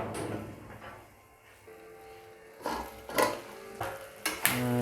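Goat liver frying in a pan with cumin and coriander paste, a soft sizzle under intermittent scraping and clinking as a utensil stirs it against the pan, with a few sharper knocks near the end, close and quiet.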